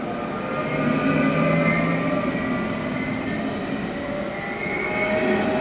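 Interior rumble of a Danish IR4 passenger train in motion, a steady rolling drone with faint wheel hum and no talking.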